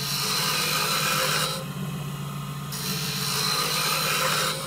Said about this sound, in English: Making wands on a lathe